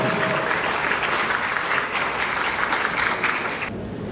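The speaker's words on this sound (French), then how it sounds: "Je vous prie de l'applaudir chaudement." At a university diploma-awarding ceremony, an audience gives loud, dense applause for a graduating laureate, a close, continuous clatter of clapping that drops off sharply near the end.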